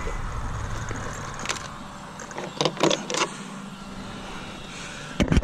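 A Traxxas 4TEC 2.0 RC car on 3S power makes a speed run, its electric drive whining over a steady background, with a sharp surge around the pass and another brief burst at the end.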